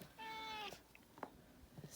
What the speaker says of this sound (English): If you can hear my cat, she's just hanging out with me now